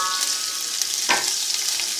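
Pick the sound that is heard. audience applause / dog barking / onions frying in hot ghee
onions frying in hot ghee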